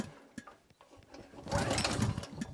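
Portable emergency generator engine being pulled over with the choke on, a rough sputtering mechanical churn that builds louder in the second half, with no talking over it.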